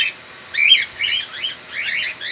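Pet birds on a bird farm give several bright chirping calls in short bursts separated by brief pauses, clear and fairly close with no talking.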